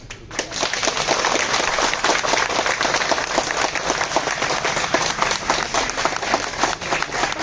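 An audience at a protest sit-in outside a selection commission claps in a dense, continuous round of applause, loud and even throughout with no voices above it.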